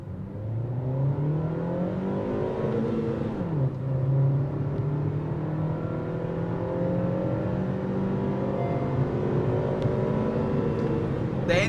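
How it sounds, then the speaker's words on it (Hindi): A 2021 Honda Amaze facelift's four-cylinder engine revs hard under acceleration, its tone climbing steadily through the gears with a brief dip at a shift, heard from inside the car as a continuous rising drone. "This is a 4-cylinder engine and let's sprint and listen to the engine."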